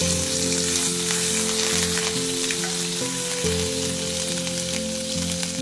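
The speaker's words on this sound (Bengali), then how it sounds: "আমরা তেল দেব, দেখতে পাচ্ছেন আমার তেলটা গরম হয়ে গিয়েছে। এখন আমি রসুনটা ঢেলে দেব।" Garlic sizzles and fries steadily in hot oil in a pan, a continuous close crackle with a low hum beneath, no voices.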